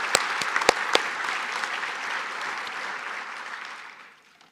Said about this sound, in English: can we have a round of applause to show our appreciation for his service?